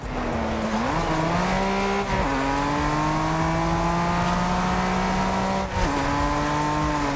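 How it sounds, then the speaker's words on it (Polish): V6 car engine in the racing game TDU Solar Crown, heard from a rear camera: a continuous loud hum that climbs in pitch, drops briefly at gear changes and climbs again, with no talk over it. "To już słychać tą V6."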